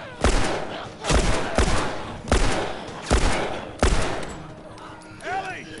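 Bursts of gunfire from The Last of Us video game, six sharp loud shots spaced roughly a second apart, with a faint squealing tail near the end.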